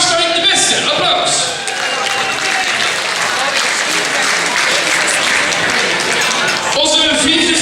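Loud, sustained audience applause at a carnival song contest prize announcement, dense clapping with scattered cheers and shouts and a few voices mixed in throughout.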